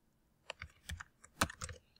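A short, quiet burst of keystrokes on a computer keyboard, about a dozen soft clicks in an uneven rhythm, heard close and alone.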